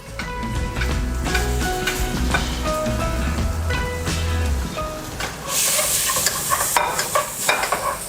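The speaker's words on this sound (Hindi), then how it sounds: "तो मैं इसमें दोबारा से प्याज और लहसुन डाल देता हूँ" Onion and garlic frying in a pan alongside paneer, a loud, constant close sizzle with stirring scrapes and a brief hissing surge near the end, no voices.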